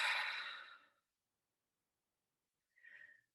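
A deep breath: a long, airy exhale that fades out over about a second, then a pause of near silence and a second short, soft breath, close and quiet in a calm meditation setting.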